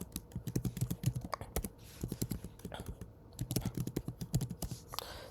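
Fast bursts of computer keyboard keystrokes entering a code, a close, steady clatter of clicks with brief pauses between runs, no voices.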